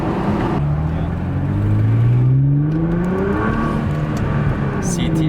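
A Nissan GT-R R35 fitted with an AAM 2.75-inch intake revs up loudly and close, its engine note climbing in pitch over a couple of seconds before easing into a steady drone.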